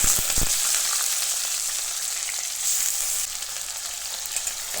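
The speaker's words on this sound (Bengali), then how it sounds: "এই পেঁয়াজগুলো ভাজা হয়ে গেছে" Chopped onion fries in a little oil for a spicy mutton curry, a continuous close sizzle with soft crackles. It holds fairly steady and eases slightly near the end, with no one talking.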